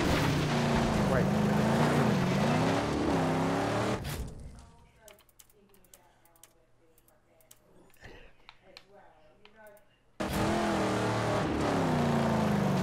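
Video game car driving, engine droning and revving loudly, then cutting out for several seconds to faint clicks and a low hum before the engine roar returns abruptly.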